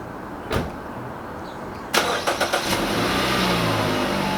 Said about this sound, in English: So let's bring the car outside so we can work inside the garage.